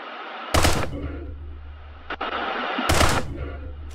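Two loud bursts of rapid gunfire from a riot-control video game, weapons being shot out of rioters' hands, each burst sharp and close with a steady hum between them.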